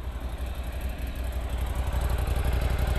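A Ducati Monster 797 motorcycle idles on its stock exhaust with a steady, muffled low rumble and an even, fast pulsing throb that holds at a constant level throughout.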